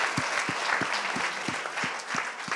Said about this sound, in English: So can we have a round of applause for our panel to warm them up?